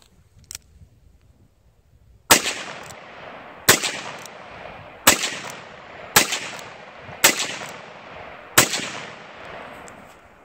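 Six sharp, loud gunshots from a Ruger Single Six .22 Magnum revolver, fired at a slow, even pace about every second and a half, each with a short echoing decay, and no talking.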